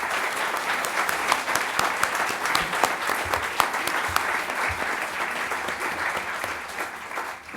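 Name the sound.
audience round of applause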